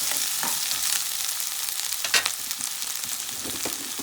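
Thinly sliced flat beans frying and being stirred in a pot, a steady close crackling sizzle with scraping stir strokes, one sharper clatter midway.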